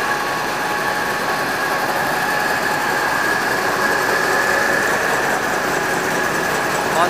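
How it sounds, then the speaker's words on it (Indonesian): Machinery inside a net-making factory in Korea runs with a continuous mechanical whir and steady high hum, fairly loud and unchanging throughout, with no talk over it. "Inilah kondisi pabrik di mana tempat saya bekerja."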